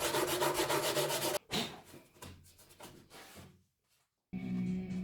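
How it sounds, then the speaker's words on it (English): Rapid back-and-forth rasping of sandpaper on a wooden guitar speaker cabinet, loud and close, stopping briefly, then a lighter rubbing, a silent pause and another burst of scraping. "that was easily cleaned up with some sanding paper"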